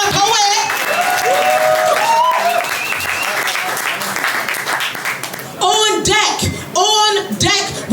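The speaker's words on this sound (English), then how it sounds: "Clap it up for the poet." Audience applause and cheering for a poet at a poetry slam, a dense crowd roar with whoops, overlapped by an excited voice talking.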